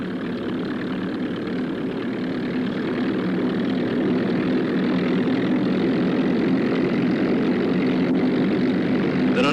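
A propeller aircraft's engine drones steadily and loudly near the British Navy carrier Albion, a continuous roar with no pauses or voices.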